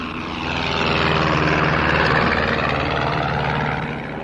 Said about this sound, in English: I was in an amphibian plane heading back toward the city